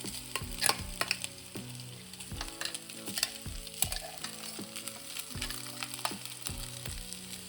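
Beef crushed with kanthari chillies sizzles and fries in a pan for a Kerala beef fry, with steady crackling broken by repeated scraping and stirring strokes throughout, fairly close and moderately loud, with no talking.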